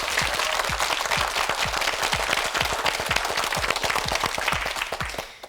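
A Korean quiz-show studio audience applauds for several seconds, a steady, close wash of many hands clapping that fades at the end.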